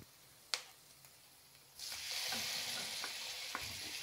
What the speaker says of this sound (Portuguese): E vamos fritar bem essa linguiça.